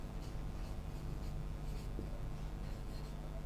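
A pen or marker writes on paper during a Class 10 maths lesson on statistics, giving faint, continuous scratchy strokes over a quiet room hum, with no speech.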